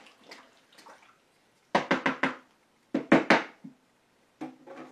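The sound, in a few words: gi pushed down into water in a dye container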